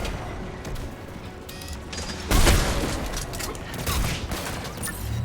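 Anti-aircraft guns firing in the video game Mass Effect Legendary Edition, a dense rattling fusillade with booms and mechanical clatter that swells sharply midway and keeps rolling, loud and close.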